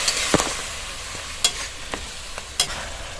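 A spice masala loosened with half a cup of water is stir-fried in a pan, a close, steady bubbling sizzle punctuated by several sharp spatula scrapes and knocks spaced about a second apart.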